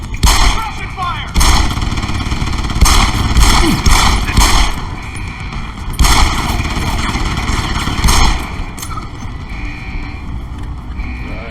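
Rapid gunfire in the Deus Ex Human Revolution video game comes in loud, close, repeated bursts with short pauses between volleys.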